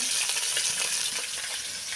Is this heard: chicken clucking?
no